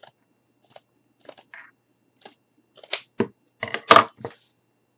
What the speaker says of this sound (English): So now I'm going to go ahead and grab my scissors